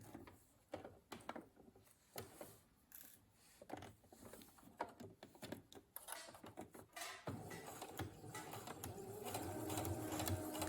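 A sewing machine stitches piping (passepoil) around a corner, first in bursts of clattering needle strokes that slow and pause, then settling into a steadier, denser mechanical whir.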